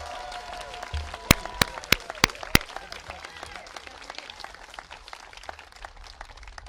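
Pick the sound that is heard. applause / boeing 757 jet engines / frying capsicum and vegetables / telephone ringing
applause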